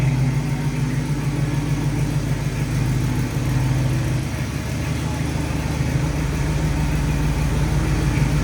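A 1968 Chevrolet Camaro with a 327 V8 and factory air conditioning idles steadily nearby, a deep, even rumble with a slight dip partway through, no voices over it.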